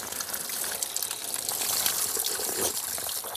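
Water pours steadily from a mineral spring in Mygovo, a loud, continuous, close gushing and splashing with no pauses and no voices.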